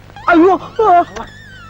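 Dog whimpering and yipping in two drawn-out whiny cries followed by a short yelp, close and fairly loud, with a faint high tone trailing afterward.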